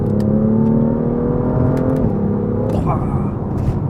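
BMW M2 engine revving hard under full throttle, a loud steady roar that shifts pitch partway through as a gear changes, heard from inside the car.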